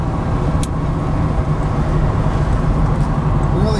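A 1969 Pontiac Firebird 400 on a test drive, its engine a steady, loud rumble with road and wind noise throughout, no pauses or gear breaks evident.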